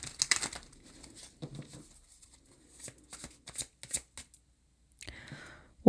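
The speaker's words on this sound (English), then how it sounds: "I'm already shuffling for this deck" A tarot card deck is shuffled by hand in close, crisp bursts of riffling and card slaps, irregular and intermittent, with brief quiet gaps between.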